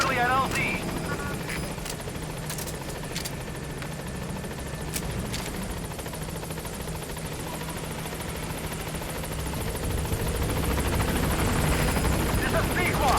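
A helicopter in the Metal Gear Solid 5 video game drones steadily as it comes in toward a landing zone, its rotor and engine noise filling the background under a voice heard over it.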